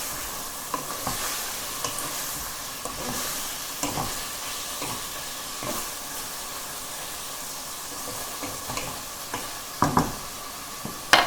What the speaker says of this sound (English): Just keep stirring these so that they're evenly cooked.